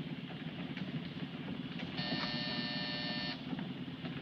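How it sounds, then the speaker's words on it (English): A harsh electric buzzer sounds for over a second, steady and fairly loud, over a low rumbling engine-like background. "Hit that buzzer."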